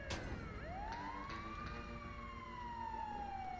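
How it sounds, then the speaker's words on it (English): Emergency vehicle sirens wail in GTA V Online, a loud rising and falling tone sweeping steadily over the game's background noise without pause. "Shut the sirens up."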